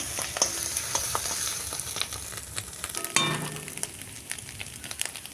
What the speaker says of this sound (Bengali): তো এরকম করে ডিমটাকে ভেজে নেব।